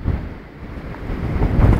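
Gusty wind buffeting the microphone on a windy afternoon at an outdoor football kickabout, a loud low rumbling roar that swells and eases with no voices.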